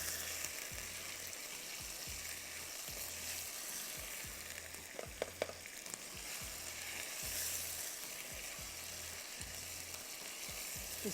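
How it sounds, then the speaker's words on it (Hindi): Chicken pieces fry in a hot pan, giving a continuous close sizzle with a repeated low scraping of stirring running steadily underneath. "इसको आपने 5 मिनट फ्राई किया, जब तक चिकन पिंक से वाइट हो गई"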